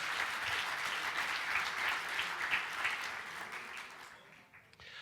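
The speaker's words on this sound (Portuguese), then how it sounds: "dê uma salva de palmas ao Senhor" A church congregation claps together in sustained, dense applause that stays loud and steady for several seconds, then thins out and fades near the end.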